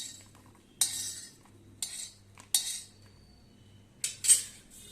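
Roasted coconut scraped off a pan onto a plate with a metal spoon or spatula: four or five short, bright scraping clinks spaced about a second apart over a low background hum.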